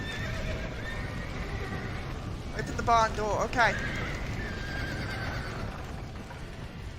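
Horses neigh and whinny in a Red Dead Redemption barn scene, two loud rising-and-falling whinnies bursting out near the middle over a steady noisy game background, with someone talking before and between them.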